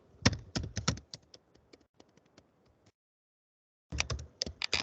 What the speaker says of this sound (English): So I'm typing normally password, pin password, picture password.